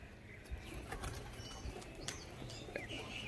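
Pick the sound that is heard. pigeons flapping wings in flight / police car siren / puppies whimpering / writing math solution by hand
pigeons flapping wings in flight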